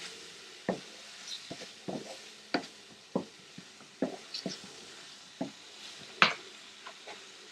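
Tomatoes and ginger paste stirred in a pan for a Malvani moong bean dish, with a spoon scraping and clacking in irregular strokes over a faint sizzle, close and fairly quiet.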